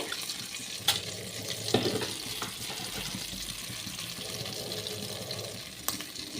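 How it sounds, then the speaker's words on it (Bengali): Bay leaf and crushed garam masala sizzling in hot oil, a soft continuous frying hiss at moderate distance with a few faint clinks and taps scattered through, no talking. "এবার আমি ওই তেলের ওপরে তেজপাতা দিয়ে দিলাম একটু গরম মশলা দিয়ে দিলাম থেতো করে"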